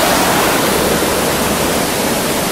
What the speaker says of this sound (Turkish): Güden Şelalesi'nin başındayız.